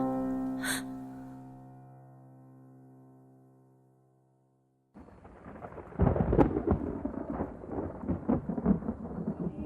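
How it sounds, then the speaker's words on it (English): Deep rolling thunder from a fairy tale fantasy audio drama crashes in loud and close after a few soft, fading musical tones, then rumbles on with crackling bursts. "Thunder rumbled high above the trees as Myrilia remembered the wraith's words"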